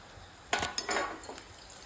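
Crushed moong dal karhode are stir-fried with onions in a pan, Khandeshi style. A quick run of metallic spatula clanks and scrapes sits over a faint background hiss.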